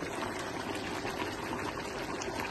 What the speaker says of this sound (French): On va le verser progressivement dans la viande.